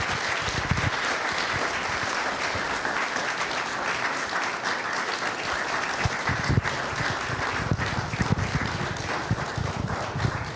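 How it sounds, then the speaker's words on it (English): An audience at a film festival awards ceremony keeps up steady, dense applause for a long stretch as presenters head to the stage, with the clapping staying loud and even, sometimes punctuated by a few sharper claps. "Just keep the claps going until they get here."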